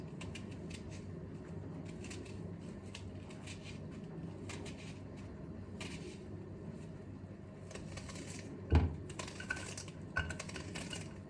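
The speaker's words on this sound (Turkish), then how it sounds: "Soğanı doğrayacağım." Quiet, irregular knife taps on a cutting board while chopping an onion, with a sharper clatter near the end against a low background murmur.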